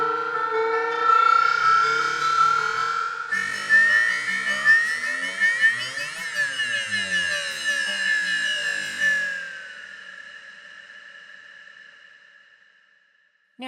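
Native Instruments Massive X synthesizer preset played through the Morpher effect, a sustained, harmonically rich tone that sweeps and shifts with a rising, siren-like bright layer, then fades out gradually with no voices.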